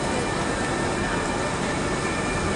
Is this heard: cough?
no